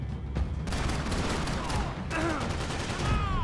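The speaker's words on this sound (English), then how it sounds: "thank God the hip fire was accurate" Rapid hip-fired gunshots crack in dense, overlapping bursts during a bar fight in Max Payne 3, loud and close, with a brief lull around the two-second mark before the firing resumes.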